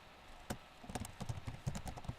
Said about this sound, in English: Then you just start typing here